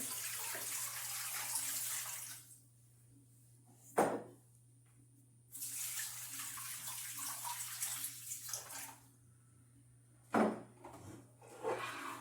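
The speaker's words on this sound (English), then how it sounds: "I'm going to put 2 quarts of water in here" Water runs and splashes steadily into a pressure canner, pausing and resuming a few times, with a couple of sharp clunks in between.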